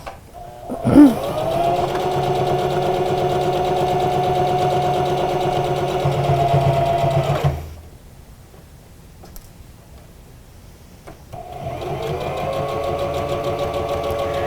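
A sewing machine stitches around the perimeter of a fabric face mask, running in a steady whirring burst, pausing for a few seconds of near quiet, then starting up again.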